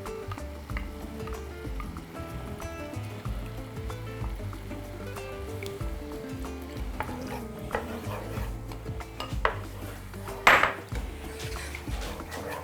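Orange sauce for chicken breast being stirred in a pan, a steady close scraping and swirling of a utensil with scattered clinks and one sharp knock near the end, no talking.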